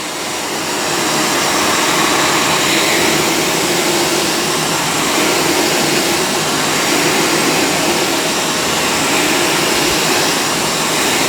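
A Shark StainStriker PX251 portable carpet cleaner runs with its pet extraction tool attached, giving a loud, steady whirring motor drone that continues unbroken from start to finish, close by, with no talking.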